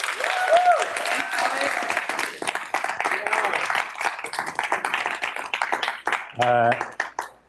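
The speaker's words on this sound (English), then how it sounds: "Let's just do one, final applause for the founders." A crowd claps and applauds continuously, with some voices and cheering mixed in, fairly loud and close.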